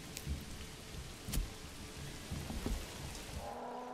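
Steady rain falling in the medieval city-building game Manor Lords, a continuous soft patter with scattered louder drops and a faint low rumble, heard alone without voices.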